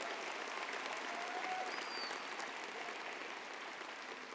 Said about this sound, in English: let's give a round of applause to the faculty and staff at Kempner High School